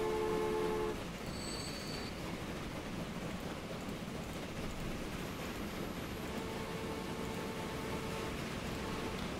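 A train runs in the Transport Fever railway simulation game, a steady low rumbling rush of wheels and motion with a few faint tonal chimes and beeps early on.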